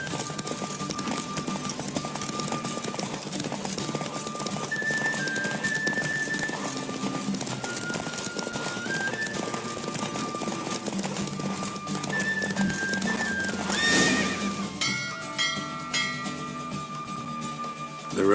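Horse race in The Witcher with steady galloping hoofbeats under continuous music and a brief whinny near the end, the hooves holding an even driving rhythm throughout.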